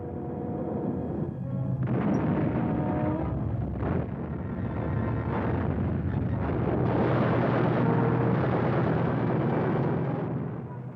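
A WWII German anti-aircraft flak gun fires at approaching Dornier bombers, heavy booming blasts blending into a dense, roaring archival soundtrack, loud and continuous with no voices.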